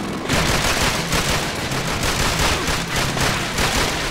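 Dense, continuous gunfire from Call of Duty: Finest Hours during a night mission, a loud rattling fusillade of overlapping shots filling the whole stretch with no pauses.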